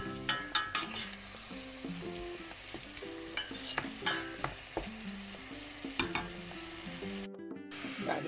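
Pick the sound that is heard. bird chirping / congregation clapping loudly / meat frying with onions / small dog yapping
meat frying with onions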